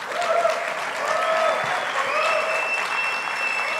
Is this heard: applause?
yes